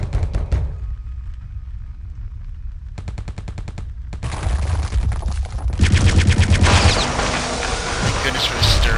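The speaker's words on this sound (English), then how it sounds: "Thank goodness for the Sterling, man. It really makes short work of these guys." Sterling submachine gun firing in Return to Castle Wolfenstein, rapid automatic bursts that repeat and grow denser, loud and close, with other game gunfire and noise building toward the end.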